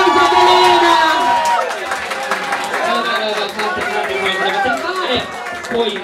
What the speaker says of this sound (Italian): Un applauso a Elena!